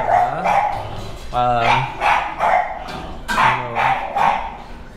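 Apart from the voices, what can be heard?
dogs barking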